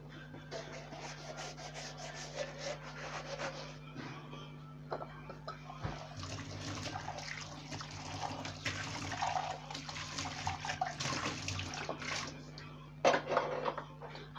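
Tap water runs steadily close by while a kitchen item is rinsed and rubbed underneath it, giving a continuous splashing wash with small scrubbing knocks.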